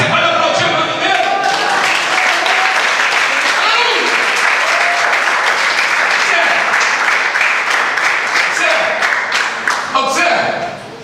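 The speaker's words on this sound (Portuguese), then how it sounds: "Você pode aplaudir o nome dele?" Dense, loud applause from a church audience fills the space, a continuous roar of many hands clapping with some cheering, tapering off near the end.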